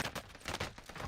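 Rapid bursts of gunfire in the video game Call of Duty: Warzone Pacific on the Caldera map, a dense, continuous volley of shots lasting about a second at moderate loudness.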